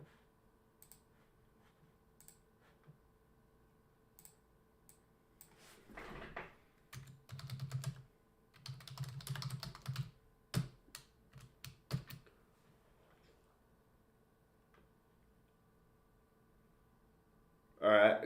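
Title being typed on a computer keyboard, with bursts of close, rapid key clicks separated by pauses in a quiet room, no talking.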